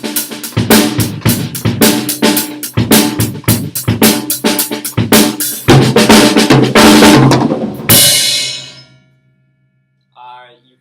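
A loud, busy rock drum fill played on a full drum set, dense hits with quieter ghost notes between accents, ending in a ringing crash that decays into near silence with a faint trailing tone.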